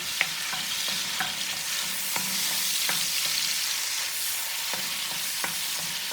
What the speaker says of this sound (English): now what I'm gonna do is add my meat